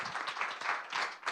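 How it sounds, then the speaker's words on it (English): An audience at a conference panel gives a brief, muffled round of applause for the panelists. Dense clapping comes in soft surges, fairly quiet and with no talk. "I would like to actually start by giving a big round of applause to our very distinguished panelists here."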